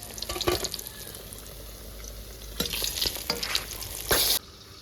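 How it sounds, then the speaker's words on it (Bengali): Steady sizzling of fish frying in a pan, with occasional scraping stirs and louder bursts of spitting oil, close by and without talk. "এখন বাঁচা মাছগুলো ভাজবো"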